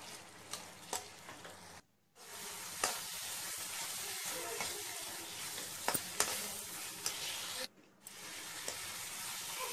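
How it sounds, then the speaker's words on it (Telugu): Sugar syrup for tutti frutti simmering over a medium flame, a steady close hiss of bubbling with scattered small pops and ticks, broken twice by brief moments of silence. "పాకమంతా దగ్గర పడినంత వరకు మనం కొంచెం మీడియం ఫ్లేమ్ మీద అలాగా ఉడికించుకోవాలి"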